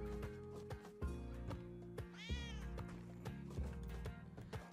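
A cat in the video game Spelunky 2 gives one short meow among steady game music and rhythmic plucked beats, playing quietly with no speech.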